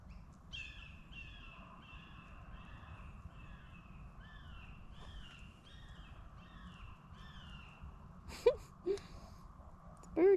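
Wild birds call repeatedly outdoors in a garden, with a steady series of rasping, crow-like calls at moderate distance over quiet ambient noise, followed near the end by a few sharper, louder chirps.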